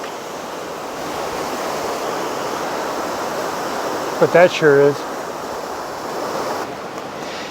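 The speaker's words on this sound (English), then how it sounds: "flowing water like that" Steady broadband rush of a flowing stream near old stone bridges along the 7 Bridges Road, continuous throughout, with a brief voice cutting in midway.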